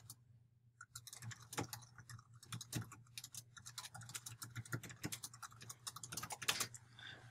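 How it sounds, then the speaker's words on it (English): Fast, irregular clicks of someone typing on a computer keyboard, close and quiet, with bursts of keystrokes and brief pauses, over a faint low hum and no talking. "this is where I would do my typing"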